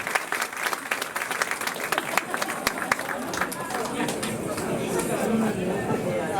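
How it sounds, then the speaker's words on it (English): An audience gives sustained, steady applause for dancers at a powwow-style event, with dense clapping, some crowd chatter mixed in, and a faint voice underneath. "Let's give them a round of applause."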